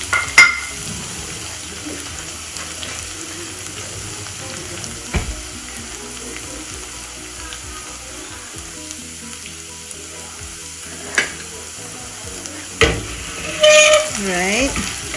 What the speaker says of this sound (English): we're going to put our our garlic. Okay, we'll brown that a little.